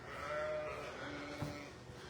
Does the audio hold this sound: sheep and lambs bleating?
yes